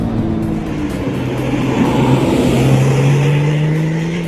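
A 2010 Porsche 911 Turbo engine pulls steadily through the hills near Portugal's Estoril circuit, a loud, close drone with its pitch slowly climbing as it accelerates, no voices.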